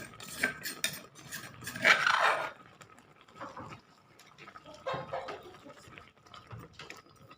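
Metal spoon scraping and clinking in a pot while pork curry with curry paste and spring onions is stirred, several bright clattering strokes with quieter gaps between.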